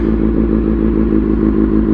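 A Kawasaki Ninja motorcycle engine runs loud and close with a steady, throbbing low rumble, holding an even idle throughout.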